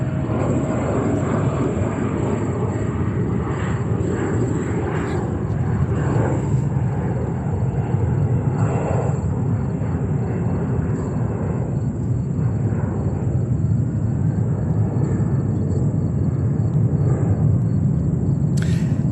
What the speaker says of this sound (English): we have next arrival, British Airways 777-200 coming in from London Heathrow